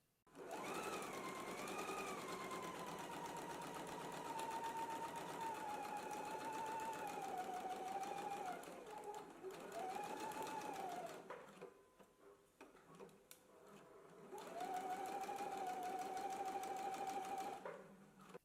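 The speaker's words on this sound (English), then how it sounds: "Let's go ahead and stitch both pockets now." A sewing machine runs in long continuous bursts while stitching both fabric pockets along a curved edge, a close, steady mechanical whirr that slows and pauses midway before picking up again.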